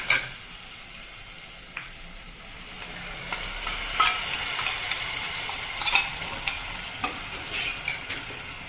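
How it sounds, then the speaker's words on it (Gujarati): Yogurt paste sizzles and bubbles in a hot pan for paneer tufani while a spoon stirs it continuously, with scattered soft scrapes and taps over a steady frying hiss, close by. "અને સતત હલાવતા રહેશું, દહીં ફાટી ન જાય."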